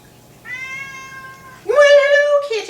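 A domestic cat meows twice close by, a long drawn tonal meow followed by a louder, rising, insistent one, with no talking over it.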